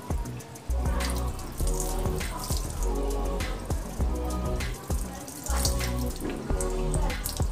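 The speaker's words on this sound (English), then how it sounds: "rinse elbow down to hands completely. Use tissue paper to open the faucet." Water runs steadily from a faucet while hands are rinsed during a handwashing demonstration, splashing in uneven bursts close by, with no speech.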